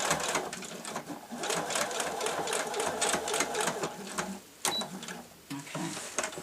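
Sewing machine running steadily as it stitches fabric for a pair of warm slippers, a continuous close rattling hum with a brief pause near the end before resuming.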